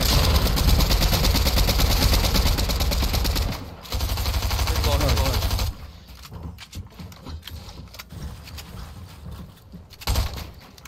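Sustained gunfire fills a video game shootout, loud and dense for several seconds, then drops to scattered, sparser shots and game noise with a brief burst near the end; no clear speech.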